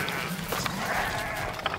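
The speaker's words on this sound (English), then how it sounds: "Fucking hate sheep." Sheep bleating out in a field, a few short calls standing over steady outdoor background noise, fairly close and clear with no talking.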